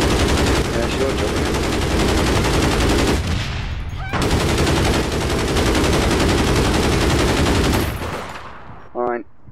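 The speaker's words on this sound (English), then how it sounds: "This gun is so loud, man." Loud, rapid automatic gunfire from a gun in the online shooter APB Reloaded, sustained bursts with a short break, close and dominant before trailing off near the end.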